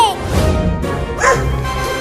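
A big cartoon dog barks loudly in a comedy cartoon about a cat, a few close, gruff barks running under a busy music-and-effects bed.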